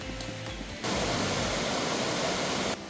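Water rushing steadily near a bridge on an old fishermen's trail in the hills of Taiwan, a broadband roar that swells louder partway through and holds near and continuous before cutting back down at the end.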